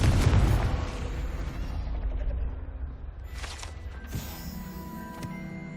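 Confringo explosion spell cast in the video game Hogwarts Legacy, a loud booming blast that rumbles and fades over a few seconds, followed by quieter magical shimmering and a sharp crackle.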